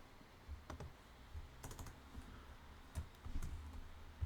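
Keys clatter on a computer keyboard in quiet, irregular bursts of light clicks, with short pauses between them and no one talking.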